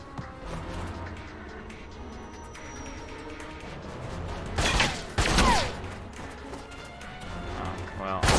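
Gunfire in the video game Alpha Protocol, shots fired through a fence: a couple of loud bursts around the midpoint and another at the end, over steady game ambience.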